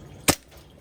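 A single sharp crack from a toy cap-style shooter, one short loud bang with a quick decay, standing alone against quiet background.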